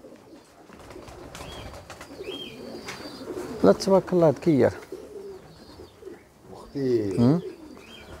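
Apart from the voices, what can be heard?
racing pigeons cooing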